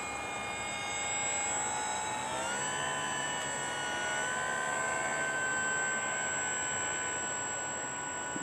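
A steady high-pitched engine whine from a Hobbyking Durafly Tundra RC model airplane on floats drones continuously, shifting pitch slightly as it passes at moderate distance, with no voices.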